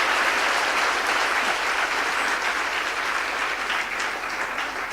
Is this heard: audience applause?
yes